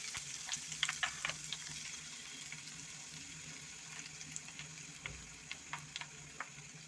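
Mustard seeds, fenugreek, curry leaves and dried chillies fry in oil with a soft, low sizzle. Scattered small pops and ticks from the seeds crackle through it at close range, with no one talking.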